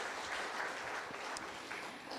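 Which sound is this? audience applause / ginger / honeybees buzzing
audience applause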